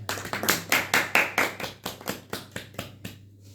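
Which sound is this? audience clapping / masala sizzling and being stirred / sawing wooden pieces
audience clapping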